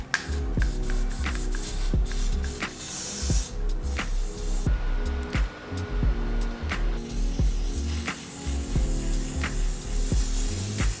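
Melting spray misted around the edges of a wig's lace, heard as repeated short hissing spray bursts with faint rubbing and handling noises between them, close up and with no talking.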